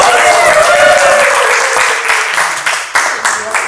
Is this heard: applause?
yes